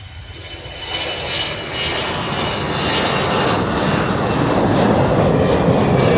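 An EasyJet jet airliner takes off at Amsterdam Schiphol Airport with a loud, broad engine roar that builds and holds steady as it climbs away. There are no voices.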